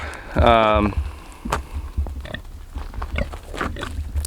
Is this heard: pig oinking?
yes